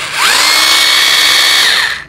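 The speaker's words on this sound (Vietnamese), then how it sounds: "Khoan bình thường đấy các bạn ạ" A Makita 12V rotary hammer drill set to drill-only mode spins up quickly, holds a steady high whine for about one and a half seconds, then winds down, loud and close with no voices.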